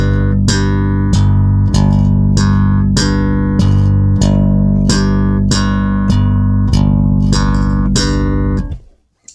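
A bass plays a steady slap pattern on G octaves: a down and up thumb stroke on the lower octave, then index and middle finger pops on the higher octave. The repeated rhythmic notes are loud and close, then die away at the end.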